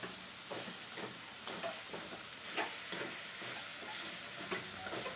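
Amaranth leaves and dal fry in oil while being stirred, giving a constant close sizzle broken by repeated soft scrapes and stirring strokes, with no talking.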